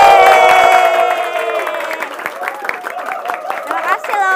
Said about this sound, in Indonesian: Kita panggilkan bersama-sama dengan tepuk tangan Kak Aci Resti.